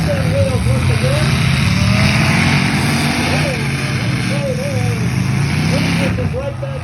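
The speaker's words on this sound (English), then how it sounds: "And now we got the spin action here. Spin wheels once again." Demolition derby cars rev hard and spin their wheels on a dirt track in North Battleford, with loud revving engines rising and falling in repeated surges under an announcer's loudspeaker commentary.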